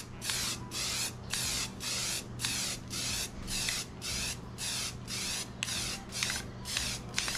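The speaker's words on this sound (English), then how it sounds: "Just spray to the sky, to the upper portion" Spray paint can sprayed across an art surface to paint a sky, in about a dozen short, even hissing bursts with brief gaps between, close and clear with no talk.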